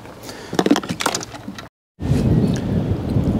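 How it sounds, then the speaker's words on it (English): Thunder rolls over a fishing lake at Suffolk Water Park during a rainstorm: a low, rumbling roar with rain hiss, briefly cut off, then a steady, heavy rumble returns close and loud. "Can you hear that? Oh no, thundering."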